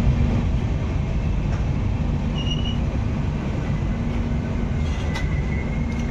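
Balurghat Sealdah Express standing or creeping through Katwa Junction in the middle of the night: a steady low rumble with a constant hum, faint squeals and clicks, and no talking.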